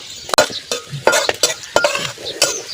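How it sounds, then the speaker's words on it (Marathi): Onion roasting in a pan for a Marathi pithlyachya vadya recipe, stirred with a utensil: a low sizzle broken by sharp scraping and clinking strokes at an uneven rhythm, close and fairly loud, with no talking. "पुन्हा एक कांदा गव्हाळा भाजायचा"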